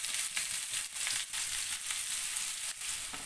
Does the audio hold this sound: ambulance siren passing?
no